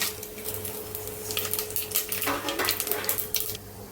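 Whole spices (cinnamon, cloves, fennel, cardamom, bay leaf) frying in hot refined oil for Madurai mutton paaya, a steady close crackling sizzle that swells midway with bursts of popping, no voices.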